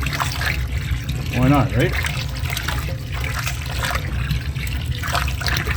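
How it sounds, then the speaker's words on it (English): Saison beer with freshly pitched yeast being swirled and splashed in an open fermenter, producing sloshing, trickling liquid sounds under a voice. "I'm just gonna let this just splash around in there"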